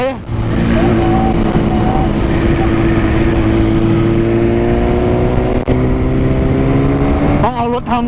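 A superbike engine, a Honda CBR1000RR-R SP or a 2020 BMW S1000RR, holds a loud, close, steady drone whose pitch climbs slowly, then snaps through quick revs at the very end.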